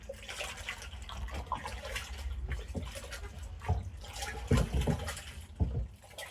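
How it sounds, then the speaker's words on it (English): Cold spring water pours steadily into a brandy mash of blackberry and apple, ten gallons going in with a continuous rushing splash that grows slightly heavier near the end. "I'm going to go ahead and add 10 more gallons of good old Cold Spring water"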